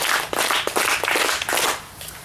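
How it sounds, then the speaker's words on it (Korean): A church congregation claps together in time, a few loud, separated group claps in a quick rhythm that fade out toward the end. "자, 박수 5번 시작."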